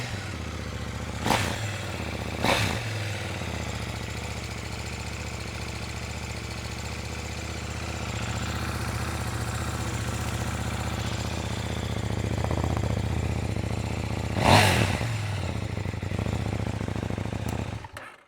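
A KTM motorcycle on its stock exhaust gives a steady low engine drone with a few sharp blips and revs, moderately close and fairly quiet, with no talking.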